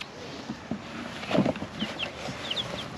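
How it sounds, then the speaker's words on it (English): Soft, scattered clucks from chickens close by, with a few higher chirps and shuffling noises, no talking. "Alright, now we gotta get these chickens."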